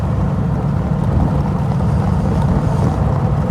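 Steady, loud low-frequency rumble of a convertible's V8 engine cruising on country roads into the Derbyshire Peak District, with wind buffeting the microphone throughout and no break in the drone.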